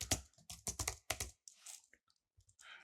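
Quick clusters of crisp keystrokes on a computer keyboard, close and clear, followed by a few scattered taps in a quiet room while writing commands in Houdini.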